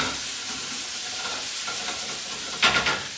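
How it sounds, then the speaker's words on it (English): Ground turkey sizzling and frying in a pan for Thai curry, a steady close hiss with faint stirring scrapes and a brief louder crackle near the end. "So I just want that to continue frying for a little second."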